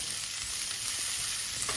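Pizza topping mixture frying and being stirred in a pan for a homemade chicken pizza, a steady close sizzle with faint scraping of the stirring, no voices.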